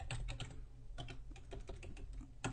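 Rapid, irregular keystrokes on a computer keyboard, close and clear, with short bursts and pauses while years are entered into a spreadsheet; no talking.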